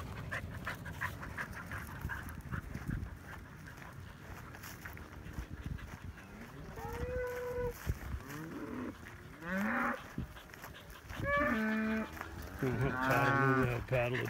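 Cattle being moved off a field by herding dogs moo several times at mid-distance, low drawn-out calls overlapping one another, over a background of rustling and shuffling noise.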